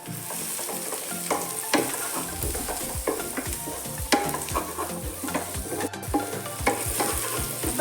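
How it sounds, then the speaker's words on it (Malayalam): Crushed garlic sautés in a pan with a steady sizzle, broken by repeated scraping and stirring strokes of a spoon against the metal. "അപ്പോൾ വെളുത്തുള്ളി നന്നായിട്ട് വഴറ്റിയെടുക്കണം കേട്ടോ"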